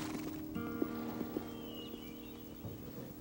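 Horse on a farm giving soft hoof clip-clops and a faint whinny, low in level over a steady background hum, with no talk.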